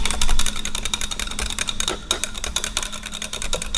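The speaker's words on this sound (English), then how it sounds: "So we whisk it together." A whisk beats low carb pizza seasoning in a bowl, making fast, steady clicking and rattling strokes that run close and loud through the whole clip, with no talking.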